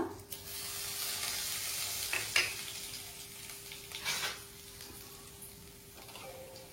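Chana dal, cumin and dried red chillies frying with mustard seeds in oil for masala dosa filling, a soft continuous sizzle with a few spoon scrapes and light clinks against the pan.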